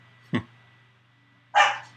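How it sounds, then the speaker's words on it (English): A real dog, not one in the wrestling video game, gives two short, separate barks, the second louder and fuller, over a faint steady hum. "Then Henry, he doesn't bark as loud. He's like, ruff, ruff"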